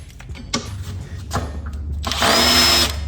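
Power drill boring a larger hole in wood during a Nissan 240SX interior job, with short bursts of whirring early on, then a louder, sustained drilling run near the end, close and alone.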